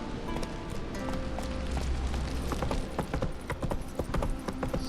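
A horse gallops in the video game The Witcher 3, with rapid hoofbeat clip-clops over a busy game soundscape and a faint musical background, steady and moderately loud.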